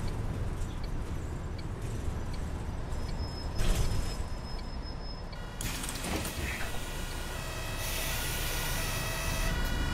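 Ambulance siren in the bus simulator game OMSI 2, a steady wailing tone with harmonic stripes that drops out and then returns louder alongside bus running noise, no talking.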